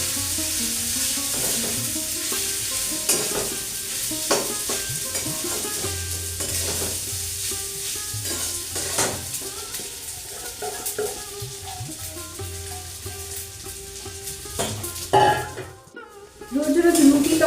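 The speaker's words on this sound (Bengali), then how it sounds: "তার আগে আমি ডালিয়াটা দিয়ে একটুখানি ভেজে" Broken wheat (dalia) fries and is stirred in a pan, a steady close sizzle with scraping spoon strokes and occasional clinks against the metal pan, briefly broken near the end.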